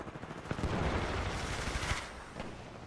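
A low-recoil gun in the video game Titanfall 2 fires in a loud, dense automatic burst of rapid shots lasting nearly three seconds.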